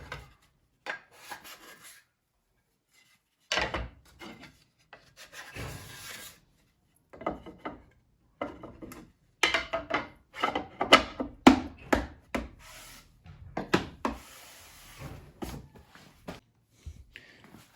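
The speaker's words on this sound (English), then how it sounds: "I'm going to run the pan plane along the sides just to shear down the width a hair." A hand plane shaves the sides of a wooden zero clearance insert, giving a series of short, close rasping strokes in irregular bursts separated by quiet pauses.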